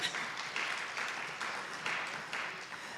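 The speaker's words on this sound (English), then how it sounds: "Let's give ourselves a round of applause." A round of applause from an audience of homeowners at a City of Detroit press conference, a steady wash of many hands clapping at moderate distance, fairly quiet and continuous for a few seconds.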